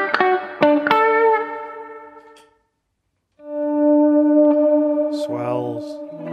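Electric guitar played through a spring reverb tank on a pedalboard: a few plucked, ringing notes decay into a short gap, then a sustained chord blooms back with a long, washy tail and a brief sliding swell near the end.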